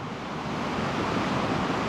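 Water rushes continuously down a Welsh waterfall on a wild mountain route, a dense, steady roar that stays even throughout, fairly close and with no voices.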